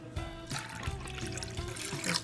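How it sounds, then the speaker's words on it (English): Chilled water pours steadily into a bowl of yogurt with a continuous splashing trickle, close and moderately loud, no talking. "let's add some chilled water to it"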